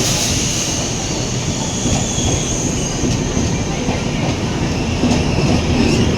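A Tejas Express passenger train from Mumbai Central to Ahmedabad arrives at a platform with a continuous loud rumble of wheels on rails, faint squeals and clatter throughout.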